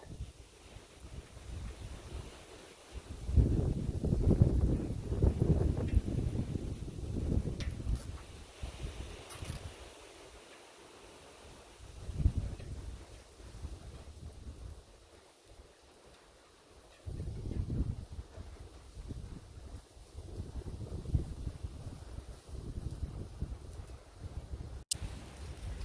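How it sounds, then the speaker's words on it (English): Strong gusting wind outdoors buffets the microphone, surging in loud low roaring waves with quieter lulls between them, no talk heard. "All right, so God, it's windy out. It's knocking everything down."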